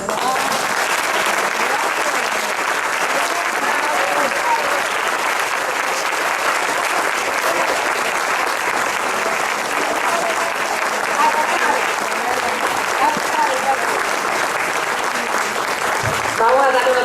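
Long, loud applause fills a hall after a talk on Carlos V, a thick continuous roar of many clapping hands that holds steady throughout, with a voice faintly emerging near the end.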